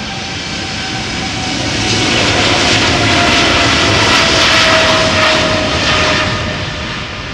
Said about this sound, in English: This is a 777 freighter, 3 years old, first flight February 2020.